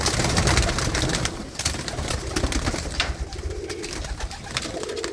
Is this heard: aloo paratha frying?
no